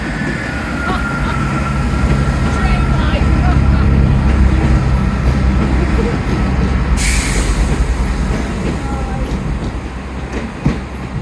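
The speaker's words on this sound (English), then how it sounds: "steam coming out the steam train" A steam train rumbles and clatters steadily past in Paignton, with a sharp hiss of steam bursting out partway through and faint voices in the background.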